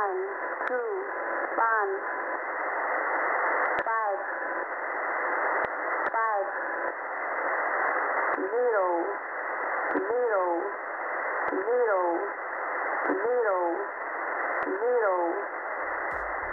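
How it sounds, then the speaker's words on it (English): Shortwave radio transmission from the HM01 numbers station, a steady band of hissing noise with repeated warbling, chirping digital bursts and sharp clicks, continuous and fairly loud throughout with no voice. "Some of them broadcast in Morse code or other digitally encrypted modes, but HM01 combines both into an interesting hybrid alternative."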